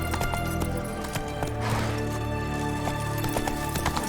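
Hooves of Roach, the horse in The Witcher 3, clop in a steady rhythm over a dense bed of game music and ambience, moderately loud and continuous.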